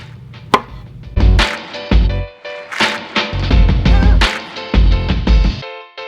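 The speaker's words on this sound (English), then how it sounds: "you get your knife and then you just slice it" A knife slices through peeled food on a cutting board, giving a series of repeated low thumping cuts against the board with short pauses between strokes, close and fairly loud, with no talking.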